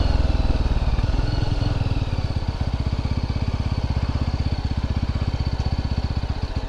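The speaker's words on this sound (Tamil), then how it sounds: "இந்த வண்டி இன்ஜின் சவுண்டுக்கே எல்லாம் ஓடிடுது பயந்து" A motorbike engine running close by on a road near Parunthumpara, Kerala, a loud rhythmic chugging that settles into a steady, fast putter.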